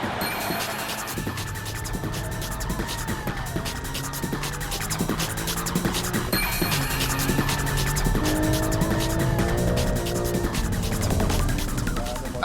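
A BMW M3, a Porsche and a GTR race hard around a track, with engines droning and rising through gears, tires squealing through corners, and a steady loud roar that continues throughout.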